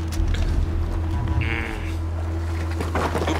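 A goat bleats once in Far Cry 4, a brief nasal cry rising over the game's steady low ambient hum and background music, with no talking.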